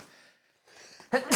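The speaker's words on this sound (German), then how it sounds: "jetzt habe ich mich angenießt" A loud, abrupt sneeze bursts out near the end after quieter stretches of room noise, close and strong, followed by a second sharp burst.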